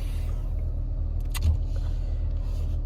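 Low, steady engine rumble heard from inside a car, constant throughout with a faint click partway through and no talk.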